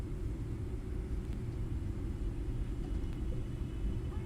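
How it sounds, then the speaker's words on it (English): Boeing 777-300ER engines in Microsoft Flight Simulator 2024 give a steady, dense low rumble and drone that holds even throughout, with no talking. "Ready for these engine sounds? Listen to this."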